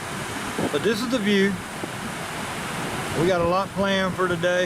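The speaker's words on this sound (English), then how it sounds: "Got a lot of wind right now." Strong wind roars steadily across a beach on Jekyll Island, a broad rushing noise that continues beneath a voice as he talks.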